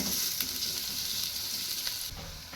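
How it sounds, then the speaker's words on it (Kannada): Onions frying in a pan make a loud, dense, continuous sizzle close by, with faint stirring scrapes underneath and no talking. "ಉಳ್ಳಾಗಡ್ಡಿ ಫ್ರೈ ಅದು"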